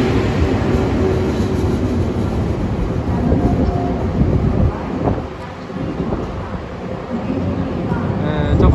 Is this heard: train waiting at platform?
yes